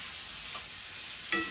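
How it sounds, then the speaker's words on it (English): Meat and potatoes sizzle in a frying pan with a steady, quiet hiss, broken near the end by a short louder clatter as the food is stirred. "we put our meat in the pan, and it's cooking, y'all"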